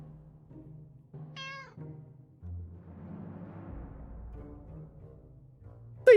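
A cat in a video game meows several times, short separate calls with quiet gaps between them, one higher rising meow standing out and a sharp cry at the very end.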